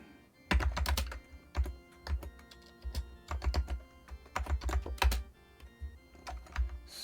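Rapid clusters of keys clacking on a computer keyboard while coding on an Amiga setup, up close, in uneven flurries separated by short gaps, with no voices.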